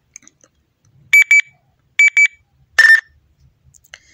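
A Nextel phone notification chirp plays as three short electronic double-beep bursts, loud and clear against near silence.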